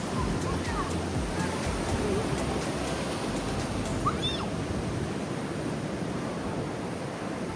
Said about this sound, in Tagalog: Grabing balod. Grabing alon dito guys.